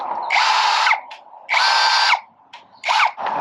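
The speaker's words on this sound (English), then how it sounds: "Next thing is to drill out those rivets" Three bursts of a power drill biting into metal rivets on an RV slide topper arm, each whining for about half a second with short quiet gaps between, close and loud.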